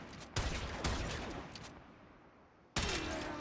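Gunshots fired in a video game, primed chamber testing against corrosive-weak enemies: two sharp loud reports about half a second apart, a tail of decay, then a third shot near the end.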